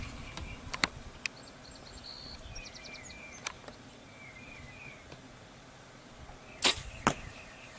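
An arrow is loosed and strikes a target 30 yards off: a few sharp, brief cracks and thuds spread through a quiet outdoor scene, with faint birdsong and insect chirps around them.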